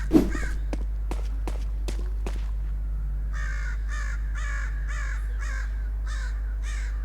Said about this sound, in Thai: ก็จะได้เสียงนกอีการ้อง